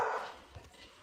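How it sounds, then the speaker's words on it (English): A dog gives a short, somewhat distant bark against a noisy indoor background, with a brief high whine or voice at the start and no clear talk. "Call the dog Chrissy and make him come now"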